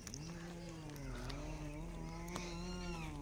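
A cat meows in a drawn-out, wavering cry that stretches through the whole moment, close and fairly clear, with a faint low rumble behind it.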